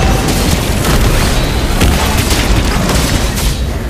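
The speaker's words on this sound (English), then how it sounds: "Your team destroyed a turret!" A turret is destroyed in the Mobile Legends video game, setting off a loud, sustained booming explosion that rumbles without a break across the whole clip.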